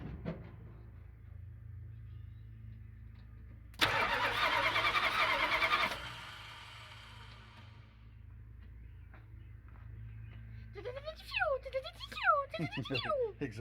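A 1976 Dodge D100 pickup with a Mopar 440 V8, suspected of low compression, cranks in one loud burst of about two seconds over a low background rumble. Sharp squealing chirps follow later.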